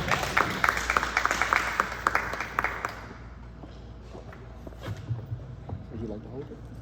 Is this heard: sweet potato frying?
no